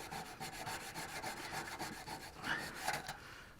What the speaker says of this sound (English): Once we get it sanded to 600 grain, we just need to feather the edge